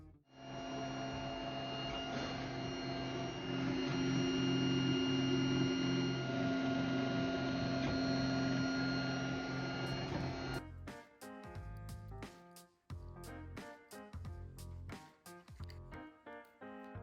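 3D printer printing a plastic case, a steady humming whine of stepper motors for about ten seconds, then irregular short buzzing moves and clicks.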